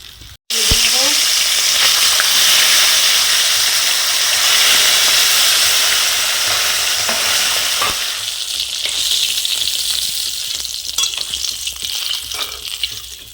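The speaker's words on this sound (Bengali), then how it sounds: "এই তো মাছ ভাজা আমার কমপ্লিট" Fish frying in hot oil makes a loud, continuous close-up sizzle and crackle that eases slightly toward the end, with a short knock at the start and no talking.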